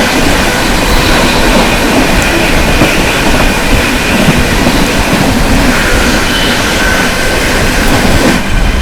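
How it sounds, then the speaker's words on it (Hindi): The Purushottam Express, a passenger train bound for Puri from Anand Vihar Terminal, rushes past very close and loud, a dense, continuous roar of wheels and rattling carriages. "सामने से आ रही है आनंद विहार टर्मिनल पुरी की ओर जाने वाली पुरुषोत्तम एक्सप्रेस"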